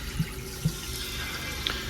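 Hot water running from a tap after a boiler is fired up, a steady, fairly quiet rush of flowing water with a couple of faint knocks and a small click.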